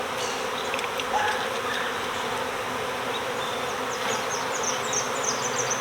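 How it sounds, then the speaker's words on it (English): Honey bees are shaken out into the open end of a hive box and swarm with a dense, continuous buzzing hum close by, steady throughout with scattered individual buzzes darting over it, and no talking. "the bees I'm just going to shake out into the open end of the box here and let them find their way into the colony."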